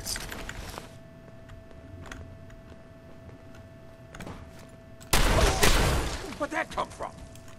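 Burst of gunfire from Fallout 4 erupting loud after a stretch of quieter game ambience, rapid cracking shots close by, then fading into a few scattered reports.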